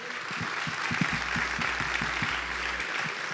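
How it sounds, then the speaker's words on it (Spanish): Church congregation applauding first-time visitors, a short burst of clapping with a few distinct hand claps standing out near the start over a low steady hum. "Los recibimos con un aplauso."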